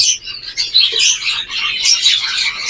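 Zebra finches in a breeder cage with eggs give rapid, high, overlapping chirps and tweets that carry on steadily throughout, fairly close, with no talking.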